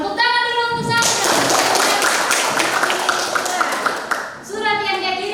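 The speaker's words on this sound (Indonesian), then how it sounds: "Tepuk tangan dulu untuk Sandra." A burst of applause from a school class, many hands clapping together for a few seconds, with young voices talking over it before and after.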